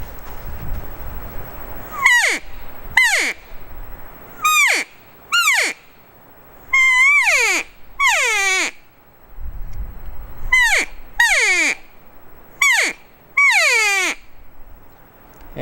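A loud, close series of nasal, descending elk cow calls blown on a Loudmouth mouth call, about ten separate mews in short bursts with brief pauses, each bending downward, mimicking an older cow.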